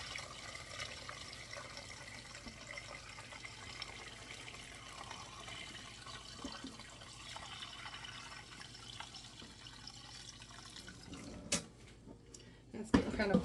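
Homemade chicken broth pours from a pot through a strainer in a kitchen, a steady soft liquid trickle running quietly for several seconds before a few louder clinks and splashes at the end.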